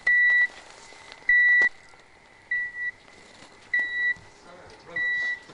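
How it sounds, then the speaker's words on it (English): An avalanche transceiver for heli skiing emits loud, evenly spaced electronic beeps, five short pulses about a second apart, close and clear over faint background noise. "It emits a loud beeping sound which helps pinpoint a skier's exact location if buried in a snowpack"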